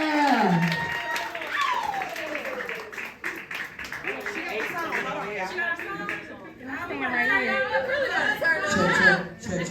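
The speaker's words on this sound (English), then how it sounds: "So clap Hood Talk Podcast to the front, y'all." An audience at a live Columbus event claps and cheers amid loud crowd chatter, the applause rising toward the end while voices carry over the top throughout.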